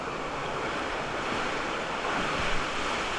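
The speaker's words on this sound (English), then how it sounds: "You just ride the raft onto the river, and and there's a couple splashes along the way." Rushing water and wind noise on the Whitewater Canyon river raft ride at Canada's Wonderland, a steady broadband wash with a slight surge near the end and no talk.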